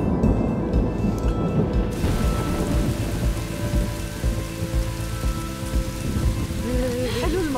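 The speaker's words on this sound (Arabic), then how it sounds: "حلو المطر" Steady rain pours down in a continuous loud hiss, with a low rumble underneath and faint voices near the end.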